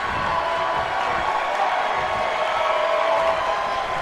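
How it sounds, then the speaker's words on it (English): A capacity crowd at a wrestling brawl roars and cheers in a continuous, dense wash of noise, steady and loud without distinct pauses. "who gets this capacity crowd on their feet."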